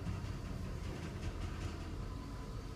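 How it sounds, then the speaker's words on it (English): Otis traction elevator car in a high-rise climbing its shaft, a continuous low rumble with a light rattle heard from inside the cab, steady throughout. "You can hear the rattling as we go up."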